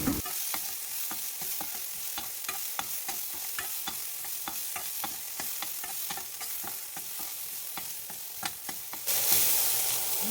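Onions fry in oil in a pan with a pinch of salt, giving a steady close sizzle broken by regular scraping stirs from a spoon, with a louder burst of hiss near the end.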